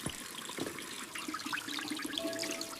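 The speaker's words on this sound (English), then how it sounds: "Wash these vegetables. Be careful with the water." Water runs and trickles from a tap as vegetables are rinsed in a home kitchen sink, a steady close splashing flow lasting throughout with no voices.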